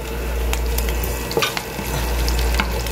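Garlic sautés in a pan that still holds the drippings from frying beef liver, a close, dense sizzle over a low hum with a few scraping stirs in the middle.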